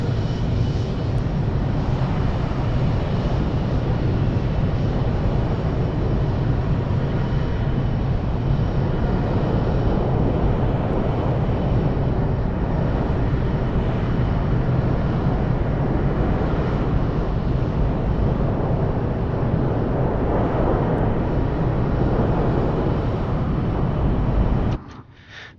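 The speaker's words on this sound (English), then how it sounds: "One's sitting on the runway, it sounds like." An airplane engine running steadily on a runway at a busy airport near Denver, a continuous broadband roar with wind buffeting the microphone, holding level throughout before cutting off abruptly at the end.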